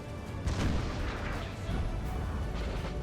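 Howitzer artillery lobbing cannonballs in the Napoleon: Total War video game, heard as a dense, continuous battlefield roar with repeated deep booms layered over one another at steady loudness.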